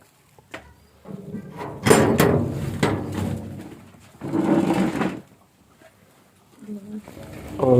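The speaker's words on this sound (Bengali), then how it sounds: "কবুতরের খানি দিই, কবুতরের খানি হইল গম" Pigeons coo nearby while being fed wheat grain in the morning, with scattered rustling bursts and soft knocks in between the calls.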